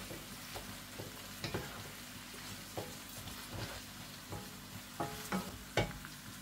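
Spiced mixture stirred in a pan after salt, chili flakes and black pepper are added, for a cauliflower and ground meat dish; soft scraping clicks of the spoon recur irregularly over a low steady sizzle.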